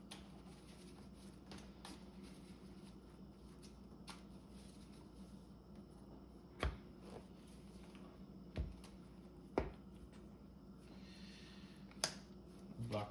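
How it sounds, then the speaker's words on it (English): A Cardfight Vanguard card deck is shuffled by hand at a table, a soft continuous papery riffling close by, broken by a few sharper taps and knocks and faint background hum. "Shuffle the deck."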